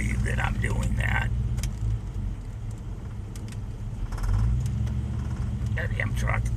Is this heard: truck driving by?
yes